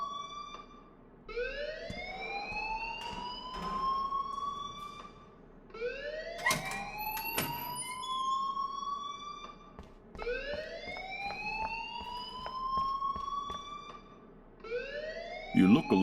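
An alarm wailing in Life Is Strange, a rising siren sweep that repeats roughly every four seconds, with scattered voices and clatter underneath.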